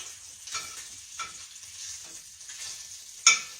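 Bacon sizzling as it fries in a pan, a steady crackling hiss with soft popping bursts and one sharper pop near the end, heard close with no talking.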